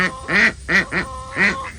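Male ducks kept near broody hens give four loud, close quacks in a short irregular burst, each a harsh nasal call with clear gaps between, heard alone without talk.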